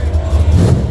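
A supercharged drag racing car at a dragstrip accelerates hard, its loud, deep engine roaring steadily and close up for the whole second.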